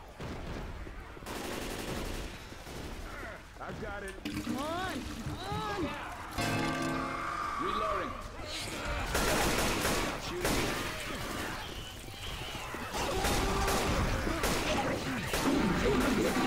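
Left 4 Dead 2 gunfire rattles in repeated sharp bursts through a busy co-op zombie shooter scene, loud and steady over a player talking nearly the whole time.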